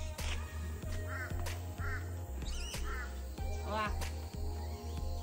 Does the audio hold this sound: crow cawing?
yes